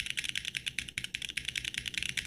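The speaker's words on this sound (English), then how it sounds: "Just me clicking on my keyboard and playing Bed Wars." Computer keyboard keys clicking in quick, steady bursts during a game of Bed Wars, close and crisp with no voices.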